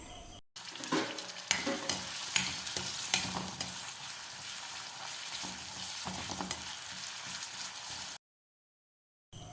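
About 100 grams of round-sliced ginger frying in coconut oil in a hot wok: a loud, continuous sizzle with scraping stirs, cutting off abruptly into silence at the end.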